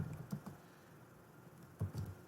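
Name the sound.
typing a terminal command on a computer keyboard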